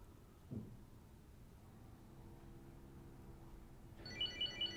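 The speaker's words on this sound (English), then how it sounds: "Okay, so there's the noise, ring your phone" After a quiet stretch and a soft thump, a Chipolo tracker tag begins chirping in short repeated electronic beeps, fairly faint, when rung from a phone.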